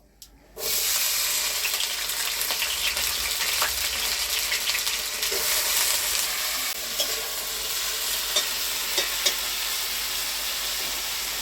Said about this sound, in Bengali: আলু ভাজবো এখন।